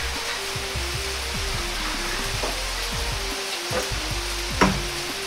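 Yakisoba noodles spread over cheese fry in a pan with a steady, even sizzle and a few soft scrapes and taps, continuous and close, with no voices.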